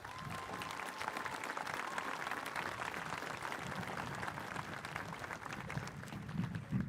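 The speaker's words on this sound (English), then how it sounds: "Please, a round of applause for your teachers." Warm, sustained clapping from a graduation audience at Manasquan High School honours the teachers, a steady wash of many hands at moderate distance with scattered voices underneath.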